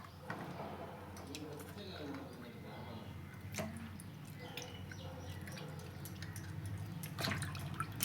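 Sea fish being rinsed under running water, with steady drips and splashes alongside wet squishing as the fish is handled, while a person talks throughout.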